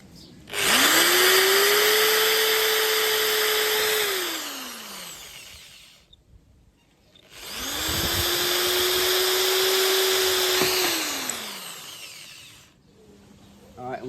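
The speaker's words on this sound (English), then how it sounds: "I'm just going to drill these holes." A power drill whirs up and runs steadily for a few seconds drilling holes, winds down, then drills a second time with a pause between.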